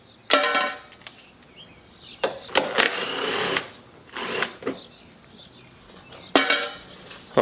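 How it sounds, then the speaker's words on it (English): A 10mm socket on a ratchet backs bolts out of a Lincoln MKX headlight assembly, giving short bursts of mechanical clicking and metal scraping separated by quiet pauses, close to the ear. "So now we need a 10mm socket. We're going to remove a couple bolts."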